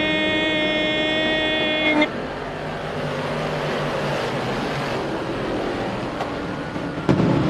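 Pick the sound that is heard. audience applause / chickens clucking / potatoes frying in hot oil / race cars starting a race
race cars starting a race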